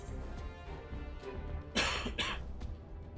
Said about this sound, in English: Sorry, I cough.